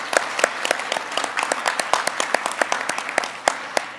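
Applause from a modest audience at a department update meeting, sparse and uneven with distinct individual claps popping out over a steady patter throughout.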